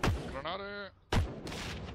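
A grenade goes off in the online shooter Heroes & Generals: a sharp blast, then a shouted voice, then another heavy, close explosion that trails into a rumbling roar.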